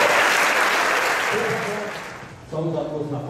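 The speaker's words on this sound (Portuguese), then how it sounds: "Glória a Deus, aplauda o Senhor Jesus." A church congregation claps loudly in sustained applause that fades away, and then someone speaks over the room.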